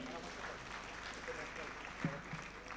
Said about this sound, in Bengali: আপনাদের সবার জন্য একটা জোরে করতালি চাই